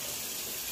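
Water pouring steadily from a tap into a bowl for Dutch oven bread dough, a brief close hissing gush with no voices.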